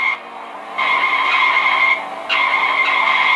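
A car in the Ice Scream horror game skids with a loud, steady tire screech in two long sustained bursts separated by a short dip, close and with no talking.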